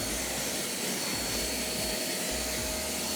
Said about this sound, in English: Get the hoover on that.